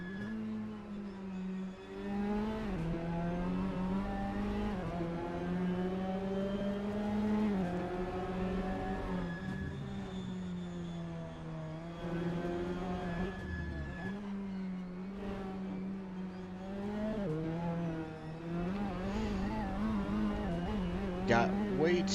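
Racing car engine in Assetto Corsa, a steady loud drone that rises and dips with throttle and gearchanges through a long run, building toward the rev limiter at high speed, with brief bursts near the end.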